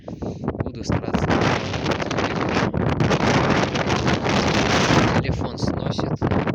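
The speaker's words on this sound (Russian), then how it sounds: "Телефон сносит, такой вот сильный ветер." Strong winter wind blasts across the microphone on a coastal stairway in Anapa, a loud continuous roar with gusty surges and drops.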